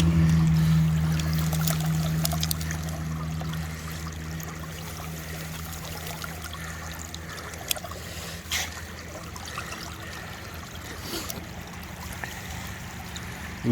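Creek water runs and trickles steadily through a gold-prospecting sluice as a clump of dirt is rinsed and broken up at Calico Creek in Putnam County, West Virginia, a continuous close wash with occasional splashes and no voices.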